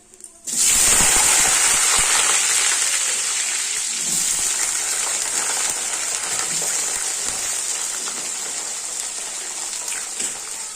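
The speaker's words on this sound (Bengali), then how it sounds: "এই ডুমডুম আলুগুলো আছে এই গরম তেলে দিয়ে দেবো হালকা একটু লাল লাল করে ভেজে নেব" Diced potatoes dropped into hot oil for frying, a loud sudden sizzle that bursts in and holds as a steady, bright hiss throughout, slowly easing a little in intensity.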